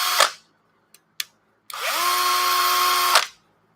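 A brushless power drill spins up with a sharp whir that rises quickly in pitch, holds a steady high whine for over a second, then cuts off, preceded by a few faint clicks and taps.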